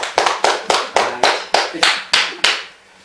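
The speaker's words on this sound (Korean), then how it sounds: "박수 쳐요." About nine or ten crisp, evenly spaced hand claps from the audience at a meditation lecture in Seoul, close and clear with short decays, slowing slightly before stopping.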